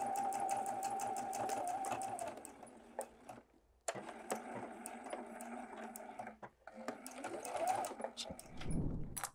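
Sewing machine stitching tiny fabric pieces for a bunny, a close whirring motor with quick needle chatter that runs in bursts, stopping briefly and restarting for the tight turns.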